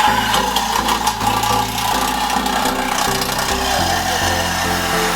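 Power saw cutting through a Toyota Tundra exhaust pipe, a loud continuous grinding whine with a steady motor tone that shifts pitch in steps as the blade bites, no voices.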